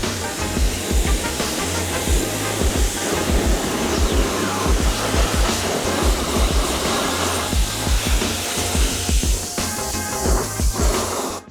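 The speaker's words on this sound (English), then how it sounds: "we're gonna blow off as much of the dirt and grime as we can with just our pressure washer" A pressure washer blasting dirt and grime off a BMW E30 car during a detailing wash, a loud continuous hissing spray with a pulsing pump drone underneath, steady and close for the whole stretch.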